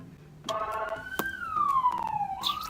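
A siren wails with a falling, sweeping tone, a few sharp clicks and knocks breaking in nearby, with no one talking.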